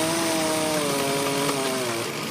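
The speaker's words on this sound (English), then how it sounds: "From the sound of chainsaws to the sound of tractors pulling apart down trees" Chainsaws cut through storm-downed trees in Perth County near Mitchell, with a steady, loud engine whine that holds constant pitch and shifts slightly lower near the end.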